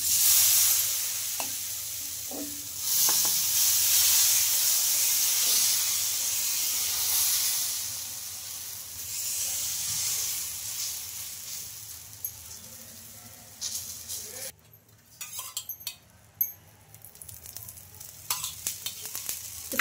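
Chickpea-batter dosa frying in oil on a hot pan, a steady loud sizzle and hiss that gradually fades, followed by a few scraping and handling clicks near the end.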